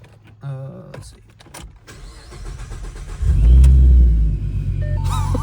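Supercharged 2014 Mustang 3.7L V6 starting up: clicks and a power-window whir, then the engine catches with a loud, deep rumble that settles into a close, steady idle, with brief talk early on.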